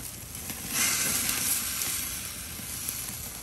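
Reverse-seared ribeye steaks sear on an SnS kettle grill, producing a steady hiss and sizzle that swells for a couple of seconds and then settles into a constant crackling background.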